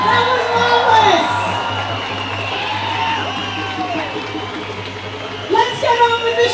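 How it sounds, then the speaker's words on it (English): A rally crowd at a March in May protest in Sydney cheers and whoops under loud voices, the broad noise swelling again near the end with shouts. "Applaud yourselves! That was marvelous!"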